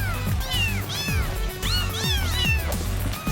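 Several kittens meow in a sci-fi comedy radio drama, repeated high rising-and-falling mews overlapping one another in quick succession over a low rumbling background.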